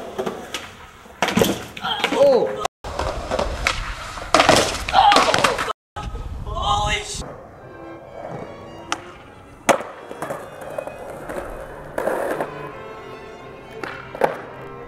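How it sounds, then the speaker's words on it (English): A skateboarder slams at the Carlsbad Gap: sharp loud board impacts and clattering bangs burst out amid wheel roll and outdoor noise, with a few later thuds. "There was also one of the gnarliest slams I've ever seen."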